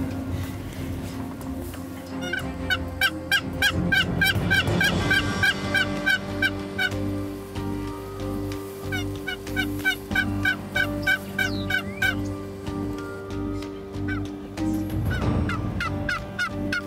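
A wild Osceola turkey gobbler gobbling outdoors, several loud rattling gobble bursts in quick series, heard from a moderate distance with a low background rumble and no talk.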